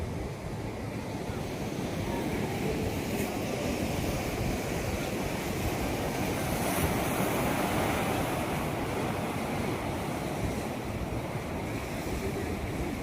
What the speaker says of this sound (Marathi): फेसाळता दर्या हा समुद्र